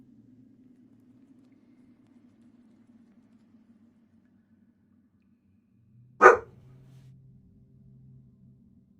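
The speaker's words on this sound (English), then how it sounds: "Oh, bark." A single sharp dog bark rings out close and loud after several seconds of near silence, with a low hum trailing after it.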